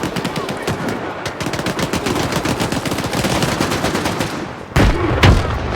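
Sustained gunfight in the game Stalker 2, dense rapid automatic fire crackling continuously for several seconds, ending with a couple of louder, heavier shots near the close.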